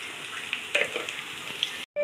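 Potatoes frying in oil in a pan give a dense, steady hiss with a few sharper crackles, close and even, then cut off abruptly at the end.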